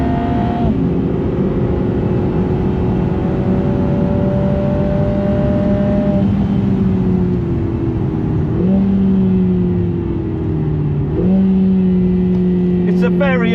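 A Lamborghini Huracán Tecnica on a hot lap with a professional driver, its engine loud and close, holding a steady high note then shifting pitch as it comes past, with someone talking over it.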